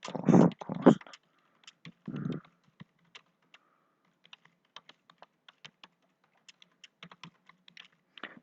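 Keys clatter on a computer keyboard during data entry in R Commander, starting with a few dense bursts and then settling into sparse, separate clicks that are close and clear in a quiet room.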